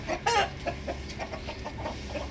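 An Aseel rooster, thick short-necked with a crested beak, gives a series of short, close clucks in a steady run, with a louder burst near the start.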